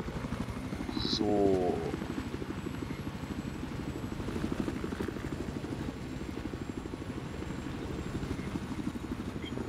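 Battlefield 4 helicopter rotor chopping loudly and steadily throughout, a fast thudding beat that swells slightly early on, with a brief voice over it.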